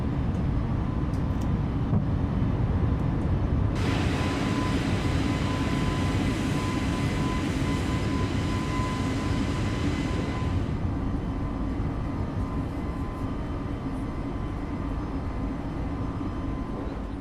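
Airliner engines roar at takeoff thrust as the jet rolls and climbs out of Paris Orly, a loud steady broadband rumble that swells with a bright hiss for several seconds, then settles to a sustained cabin drone.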